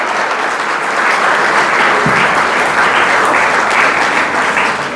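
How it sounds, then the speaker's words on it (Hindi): An audience at a stage event breaks into loud, sustained applause, dense clapping filling the whole stretch at close range without letting up. "उनके लिए जोरदार तालियां"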